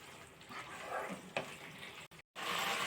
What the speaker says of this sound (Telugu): అంతా బాగా కలిసేలాగా ఒకసారి అయితే కలుపుకుందామండి.